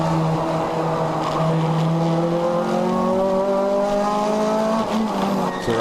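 A race car at a ChampCar endurance race on the Joliet Grand Prix circuit, its engine revving through rising and falling gear sweeps with tire squeal, loud and close.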